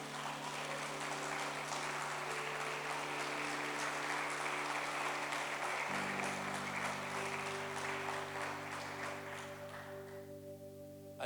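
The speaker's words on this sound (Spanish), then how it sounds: "Denle un aplauso al Señor." A church congregation claps steadily through a sustained round of applause while held organ or keyboard chords sound underneath, the clapping gradually thinning toward the end.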